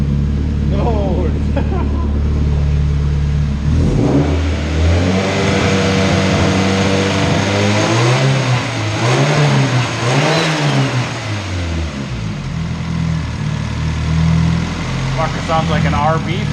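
Turbocharged Honda CR-V engine on its first start, idling then revved repeatedly in rising and falling sweeps close by, dropping back to idle, with people talking over it.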